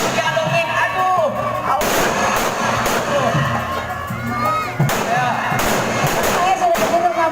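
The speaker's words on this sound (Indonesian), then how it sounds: "Ini petasan panjang banget, nggak habis-habis" A long string of firecrackers exploding during a Betawi ondel-ondel street parade, loud rapid crackling bursts going on without pause, with a crowd shouting and cheering and people talking over it.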